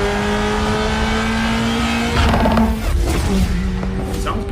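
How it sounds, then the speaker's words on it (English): Acura Type S exhaust note: a car revs and accelerates with rising tonal engine pitch, loud and near, then shifts and fades slightly as it pulls away, no talking. "There's a great sound of the exhaust, which I might stick into this video."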